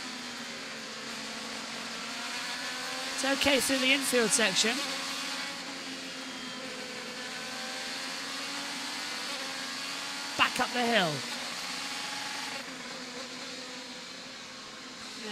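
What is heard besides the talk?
IndyCar Penske race car engine heard on board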